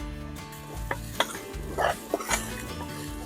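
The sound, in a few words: masala spices deep frying in a pan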